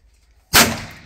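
A single sharp gunshot cracks out at a steel gong target after a near-silent lead-in, followed by a decaying ring and echo.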